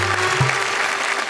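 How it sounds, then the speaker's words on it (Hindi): Brief burst of audience clapping at a Hindi kavi sammelan poetry gathering, a steady wash of applause lasting about a second with faint low voices underneath. "जरा तालियां बजाइए"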